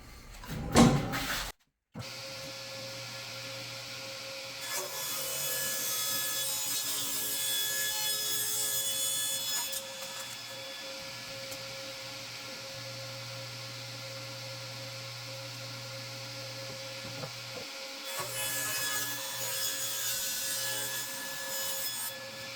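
A table saw fitted with only a riving knife, no blade guard, rips through wood for a bass guitar build in a workshop, making loud sustained cutting passes with a steady motor whine and a brief pause between cuts.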